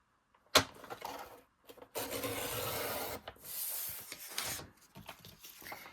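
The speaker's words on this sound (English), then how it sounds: "And then this one, we're going to cut at 2 inches." Paper cutter slicing through a 6x6 sheet of paper for a mini notebook, a sharp snap followed by several seconds of steady close rasping and scraping, with brief pauses between strokes.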